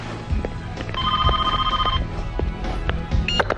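A telephone bell rings in a short burst over background room noise and scattered low thumps, followed by a brief electronic tone near the end.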